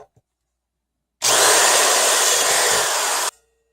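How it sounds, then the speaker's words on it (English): A power drill with a 1/8 inch bit boring through a cracked crash cymbal gives one loud, close, steady whine of about two seconds that starts abruptly and cuts off sharply, with silence before and after. "now I'm going to switch to a larger bit and just start making the holes larger"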